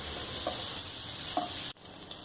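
Half the butter melting into two tablespoons of hot oil in a pan for butter chicken, giving a soft, steady close sizzle with a couple of faint pops, then quieting slightly near the end.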